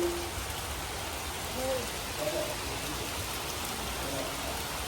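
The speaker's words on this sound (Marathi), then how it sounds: "दिवाळी चालू आहे आणि पाऊस आलाय" Heavy rain falls during Diwali as a continuous, even hiss of drops on surfaces, moderately loud throughout, with a few faint tonal calls poking through.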